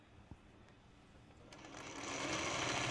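A sewing machine stitches pieced fabric quilt blocks together for a cabin-themed quilt, a continuous mechanical whir that starts quietly and grows steadily louder and denser toward the end, with no talking.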